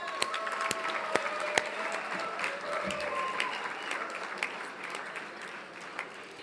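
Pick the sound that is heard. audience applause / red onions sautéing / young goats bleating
audience applause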